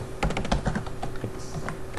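Fingers type on a computer keyboard in a quick, irregular run of close, light key clicks, with no talking.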